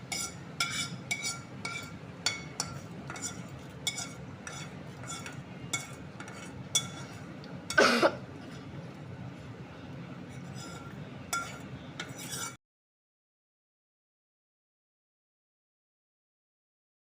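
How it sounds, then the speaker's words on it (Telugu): Tempering is stirred into green chilli pachadi with a spoon, producing steady light clinks and scrapes against the bowl for about twelve seconds, with one louder knock midway, then silence. "తాలింపు వేసుకుని ఈ విధంగా కలుపుకోవాలన్నమాట"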